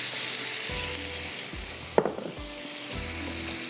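Corn kernels drop into a hot pan with tomatoes and spices, adding to a steady bright sizzle, with a sharp clatter as they land and a few low scraping stirs around it.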